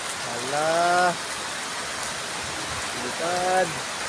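Steady heavy rain hisses throughout on a rooftop where pigeons are being trained to fly home, with two short bursts of a voice rising over the downpour.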